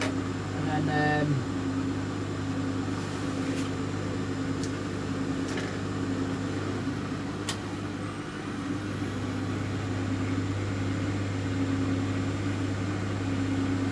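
A washing machine on a quick boil wash gives a steady low motor hum that holds evenly for the whole stretch, with a few brief clicks and a short rising whine partway through.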